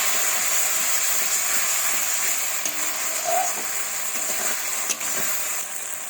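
Mutton sautéing in a pan with turmeric and salt for mutton kosha, giving a steady, close sizzling hiss with occasional stirring scrapes and no voices.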